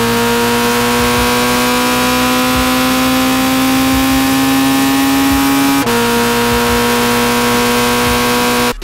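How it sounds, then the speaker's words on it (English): Red Bull X2010 race car from the Gran Turismo game, a loud continuous buzzing engine note holding steady, with a brief break and pitch drop about two-thirds through before resuming, no voices present. "and Red Bull X 2010 Junior."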